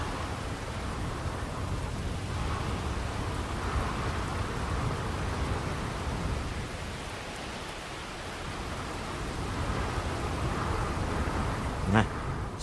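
Steady rain with a low rumble of thunder pours over Neon, the lightning-powered city in Starfield, a continuous wash of noise that swells and dips, ending with a sharp crackling strike near the end.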